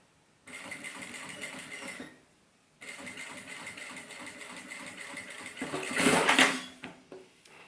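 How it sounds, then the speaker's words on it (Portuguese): A sewing machine stitches a fabric patch onto a shoulder bag, running in two bursts of steady rapid whirring with a short pause between, the second run rising louder near its end before stopping. "E continuo a costurar."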